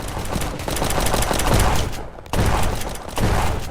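Rapid gunfire in the Roblox game Prison Life while shooting at police, dense bursts of automatic shots packed close together and loud, with a short gap before the firing resumes.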